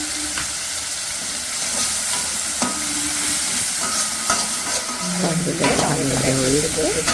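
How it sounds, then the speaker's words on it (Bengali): Tomatoes fry in a pan and are stirred with a utensil, giving a steady close sizzle and hiss broken by scraping strokes and clinks. "নাড়াচাড়া হচ্ছে টমেটো একটু ভাজা ভাজা হয়ে এলে"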